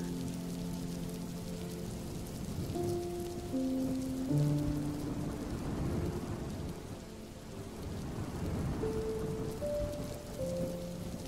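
Rain pours steadily in a Bengali fairy-tale cartoon while thunder rumbles and swells, with soft music tones drifting over the storm and no talking.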